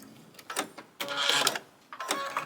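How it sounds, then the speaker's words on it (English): A domestic sewing machine runs its automatic tie-off stitch on a tote bag, then trims the thread, producing short mechanical whirring bursts separated by pauses, close and moderately loud. "When I get to the end, I'm going to run the little tie-off function. Trim the thread."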